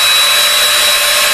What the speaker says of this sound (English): It's important also that you drill completely through the cap and the Y insert.